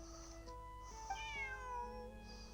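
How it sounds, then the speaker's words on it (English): Bonnie, a cat in a video game, meows in a drawn-out, wavering call that rises and falls. It plays over steady game music and background tones, with no talking. "Bonnie is Pierre's cat."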